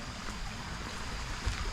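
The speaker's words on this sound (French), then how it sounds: "Une petite rivière." A small river flows through jungle-like forest in Vietnam with a steady, soft wash of running water, fairly close and continuous, with a brief low thump near the end.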